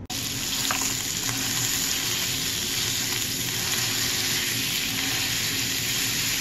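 Chili ingredients cooking in a pot, giving a steady, loud sizzling and bubbling hiss that holds unbroken throughout with a few faint clinks.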